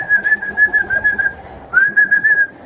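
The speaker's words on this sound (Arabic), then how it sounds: "كل الحمام بدأ ان هو ينزل على الارض" A flock of pigeons calling with a steady, warbling whistle-like tone as they come down to the ground. The sound is close and fairly loud, with one brief break midway.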